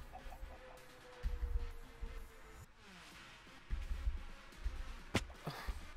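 Chicken in the video game Minecraft giving short, faint clucks amid soft in-game ambience and footstep noises, with no talking during the sound.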